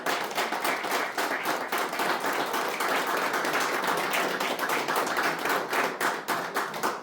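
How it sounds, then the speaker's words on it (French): An audience at a silver medal ceremony at Hotel St Augustin in Strasbourg applauds in a dense, sustained round of clapping that holds at a steady level throughout, with no speech over it. "Mesdames, messieurs, on peut les applaudir."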